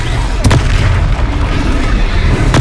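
A Confringo fire-blast spell goes off in Hogwarts Legacy: a sharp booming burst over a dense, roaring wash of combat noise, with a second blast cracking near the end.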